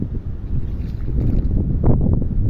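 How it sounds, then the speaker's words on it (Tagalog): Strong wind buffets the microphone outdoors under an overcast sky near water, a steady low rumbling roar that swells and fades slightly but never stops, with no voices. "Makulimlim, malakas ang hangin"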